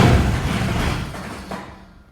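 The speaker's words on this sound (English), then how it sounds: "that is the sound of a bad transmission in there." A V8 car with a bad transmission makes a rough, broadband mechanical rumble and grinding clatter that stays loud, then fades over about two seconds, with no talking.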